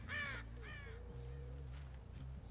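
Crows cawing in the video game Dead by Daylight: a few loud, harsh caws in quick succession, close and clear with no talk over them.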